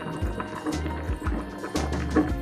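Ragda, a dried pea curry, simmering in a pot over a low gas flame, giving soft, quiet bubbling pops at irregular intervals.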